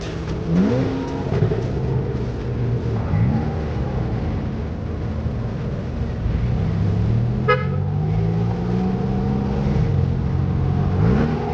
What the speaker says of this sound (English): 997 Carrera, maybe a Carrera S, can't tell from here. That sounds lovely.